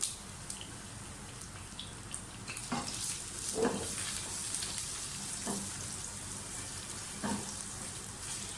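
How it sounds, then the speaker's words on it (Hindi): Oil sizzling and crackling in a pan as garlic and ginger fry, with a steady hiss and scattered pops, no voices. "लहसुन अदरक को थोड़ा सा फ्राई कर लें।"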